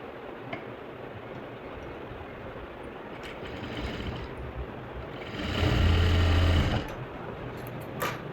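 Sewing machine stitching darts on a blouse, low mechanical running with a brief louder burst of rapid stitching lasting about a second, amid quiet background noise and faint clicks.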